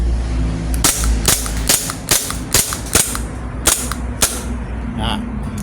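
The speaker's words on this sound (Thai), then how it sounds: "มาทดสอบยิงให้หมดแม็กเลยนะครับ" A WA Glock 17 airsoft pistol is fired repeatedly until its magazine runs empty, giving about nine sharp, loud cracks at an uneven rhythm with short gaps between them and a faint room hum underneath.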